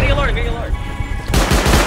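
Rapid gunfire in the survival game Rust Console Edition, dense and loud throughout, getting sharper and more intense near the end with overlapping shots.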